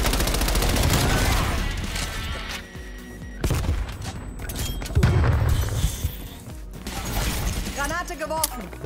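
Dense rapid gunfire and explosive bursts from the video game Call of Duty: Black Ops Cold War, loud and nearly continuous with short gaps, while someone talks over the action.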